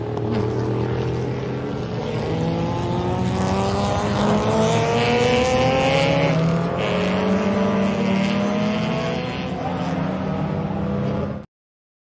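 Race cars scream past one after another, engines whining and shifting pitch as they approach and recede, loud and continuous with no voices.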